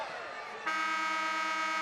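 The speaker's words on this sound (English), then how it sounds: "can't beat the buzzer" The end-of-quarter buzzer sounds at a boys' state high school basketball game: a loud, sustained horn-like tone cuts in after a brief murmur of crowd noise and holds to the end.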